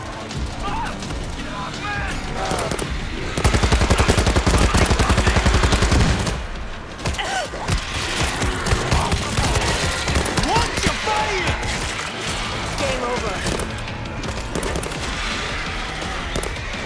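Heavy automatic gunfire in the World War Z zombie-apocalypse game set in Tokyo: dense, sustained bursts that peak loudly in the middle, mixed with in-game combat noise and occasional voices.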